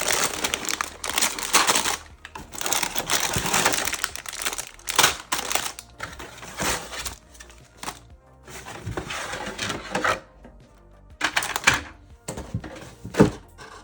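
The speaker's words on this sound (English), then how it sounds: "let's open this up and take everything out" A Perler bead craft kit being opened and emptied, with loud bursts of plastic packaging crinkling and crumpling, scattered thunks and clatters of parts set down, and short quiet gaps between bursts, no talking.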